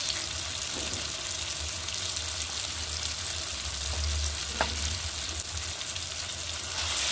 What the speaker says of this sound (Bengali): নাড়াচাড়া করে নিয়ে ভালো করে নাড়াচাড়া করে নিলাম।